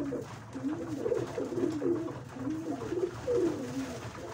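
Pigeons in a loft coo softly and repeatedly, several low rolling calls overlapping against a steady background hum.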